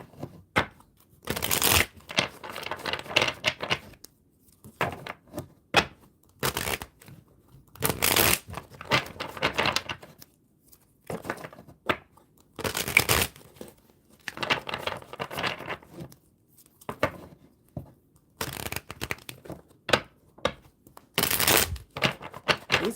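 Thick tarot cards are shuffled close by in repeated bursts, each a sharp riffling flurry separated by brief quiet gaps and softer handling sounds.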